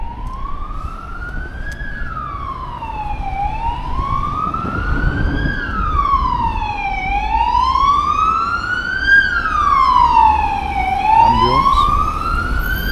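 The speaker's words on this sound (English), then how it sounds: "Ambulance." A loud wailing ambulance siren rises and falls in repeated slow sweeps, close by, over traffic noise on a seafront promenade in Palma de Mallorca.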